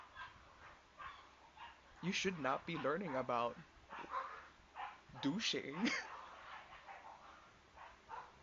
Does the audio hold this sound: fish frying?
no